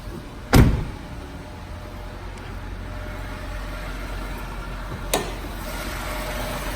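A sharp mechanical clunk of a 2017 Jeep Grand Cherokee's hood latch releasing, followed later by a second fainter thunk as the hood opens, with a quiet V6 idling hum in between.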